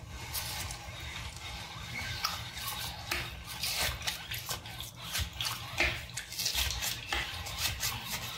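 Watery juice from thawed tomatoes is poured out of a container, a steady splashing and trickling stream at moderate volume with small drips and sloshes.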